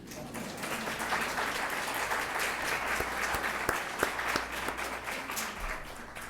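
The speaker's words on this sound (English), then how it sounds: "Applause, please." Audience at an Excellence in Research Prize and Medal ceremony applauds the Board of Overseers, a steady, even wash of clapping from a large room lasting several seconds with a few sharper individual claps standing out.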